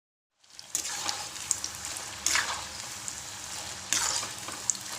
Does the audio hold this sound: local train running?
no